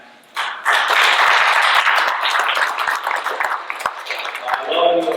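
An audience at an education candidate forum breaks into sudden, loud applause after a brief quiet moment, then a voice starts speaking over the tail of the clapping.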